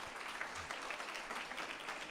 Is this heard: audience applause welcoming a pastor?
yes